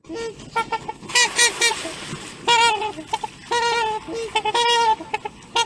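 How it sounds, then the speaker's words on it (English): A recording of trumpeter swans plays: loud, nasal, honking calls in repeated bursts, several birds overlapping with short gaps between calls. "I think they call them trumpeter swans, but I think they sound like a trombone"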